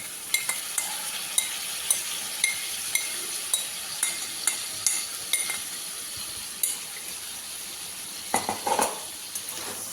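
Chicken is stirred with leftover marinade spices in a frying pan: a utensil clinks and scrapes against the pan in a regular rhythm over a soft, steady sizzle, then gets busier near the end.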